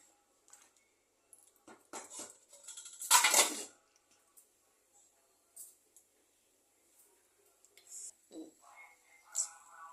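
Spoon scraping and clattering in a clay pot while mixing radish sambar with chili powder, a few scattered clinks with one louder burst of stirring near the middle.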